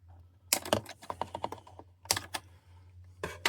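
Plastic ties on a 1993 Supertoys Transmo-Bot toy's packaging being cut out, heard as a handful of sharp snips and clicks in uneven bursts, close and fairly loud, with no voices.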